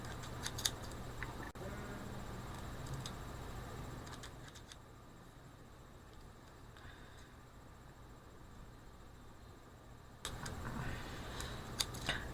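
Scissors trimming a cosplay shoulder piece for an Ana Amari Overwatch costume: quiet, crisp snips scattered irregularly over a low steady room hum, with a few clustered clicks near the start and end.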